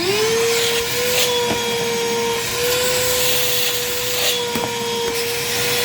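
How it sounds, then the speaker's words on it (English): A light-duty Harbor Freight cordless handheld vacuum cleaner runs continuously with a steady, close whine, its pitch rising briefly at startup, with faint scraping and rubbing as it is moved. "this is a very light duty vacuum"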